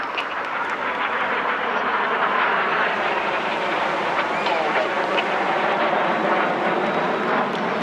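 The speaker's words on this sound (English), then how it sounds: "Each aircraft will now dive down to approximately 100 feet over the sea." Red Arrows display jets diving to about 100 feet over the sea at the Clacton Airshow make a broad, steady jet roar. An announcer's voice speaks faintly over the noise.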